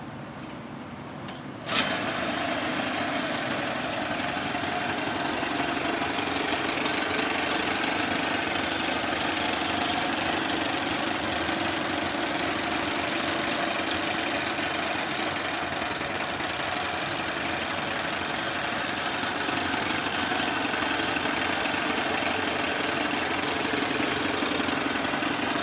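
A Johnson 9 outboard boat motor starts abruptly and runs steadily after repair, a loud continuous buzzing drone with a fast knocking throb that holds unchanged for over twenty seconds.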